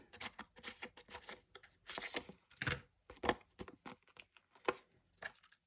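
Scissors snip around the edges of paper in a string of short, close crinkling cuts, irregular in rhythm with brief pauses between them, no voices.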